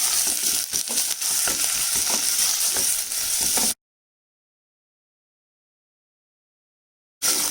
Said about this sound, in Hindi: थोड़ा सा इसी घी में इनको भून लेते हैं